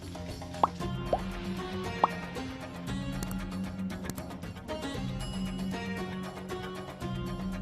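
Chicken stock for parda biryani drips and plops as the liquid is strained away from the cooked chicken, a few distinct splashes early on, then softer trickling over a low kitchen hum.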